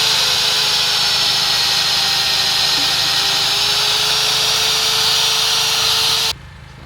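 A core drill cuts through metal with a steady, loud, grinding drone and high whine that holds unbroken for several seconds, then cuts off abruptly near the end, leaving quiet background.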